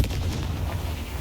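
A Confringo blasting spell from Hogwarts Legacy, heard as a short, low, rumbling explosive burst that fills the whole brief moment.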